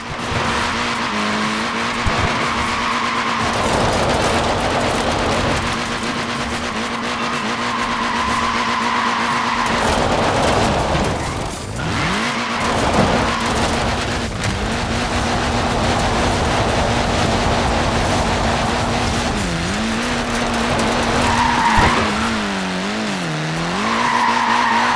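A short-wheelbase front-wheel-drive car slides in Forza Horizon 4, its loud engine droning steadily while tyres skid and squeal in repeated bursts throughout, with no voices.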